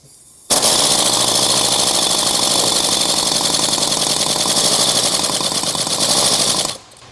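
A loud steam car engine from a 1925 Doble, run on compressed air, starts abruptly and chugs in a fast, steady rhythm for several seconds, then cuts off.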